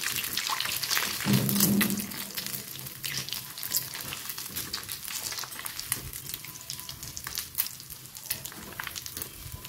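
Pakoras for kadi sizzle in hot oil, a steady bubbling fry with a louder surge early on and light clinks and stirring over the crackle.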